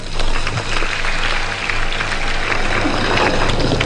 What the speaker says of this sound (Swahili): Tupigie rais makofi tena.